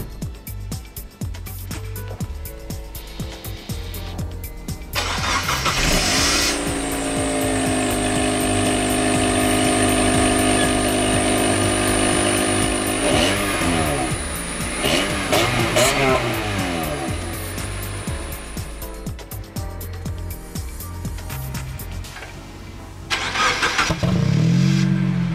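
Car engine with a newly installed exhaust, idling and then revving into a steady, low and deep drone that swells and eases over about twenty seconds, with a brief throaty burst near the end.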